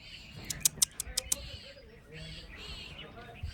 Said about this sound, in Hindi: यहाँ से चारों तरफ चूं चूं हो रही है, चूं चूं